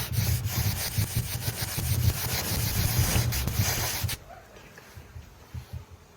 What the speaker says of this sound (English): Yeah, the 60 grit's going all right.